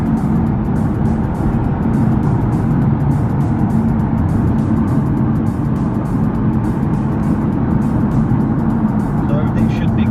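BMW F80 M3 running on E85 fuel, heard from inside as a steady, loud engine drone with strong low rumble held throughout, no break in the sound.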